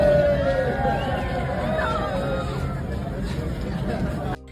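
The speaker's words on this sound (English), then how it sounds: "Harry and Meghan were greeted to cheers from a crowd of well-wishers as they left" A crowd of well-wishers cheering Harry and Meghan as they leave in Vancouver, loud continuous outdoor chatter and cheering from many voices, with whoops rising over the babble before it cuts off abruptly.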